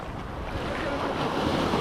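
Ocean surf breaks and rushes around a person fishing with lures in knee-high water, a loud continuous wash of waves mixed with wind buffeting close to the microphone.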